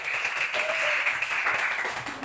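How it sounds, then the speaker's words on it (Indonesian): A classroom full of students claps together in a dense, steady burst of applause, moderately loud and close, lasting a couple of seconds. "Bapak berikan tepuk tangan untuk kalian semua."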